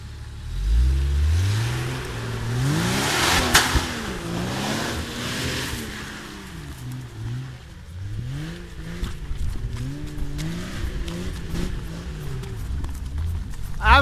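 An off-road car revs hard over and over, its engine rising and falling in pitch as the wheels spin, loud and close, with no talk.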